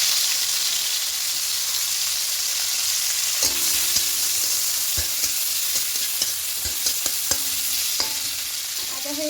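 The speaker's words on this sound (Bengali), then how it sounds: "কড়াইয়ে দেব সরষের তেল, অল্প করে দেব, দিয়ে করলাগুলোকে প্রথমে একটু ভেজে নেব" Bitter gourd pieces fry in a little mustard oil in a wok, giving a constant close sizzle. Sharp scraping clicks from stirring begin partway through and repeat irregularly.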